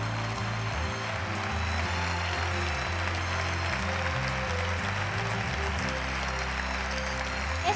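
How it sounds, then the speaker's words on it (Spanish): Audience applause fills the hall at an awards gala, a steady wash of clapping sustained for several seconds over loud background music. "Un fuerte aplauso para todos ellos."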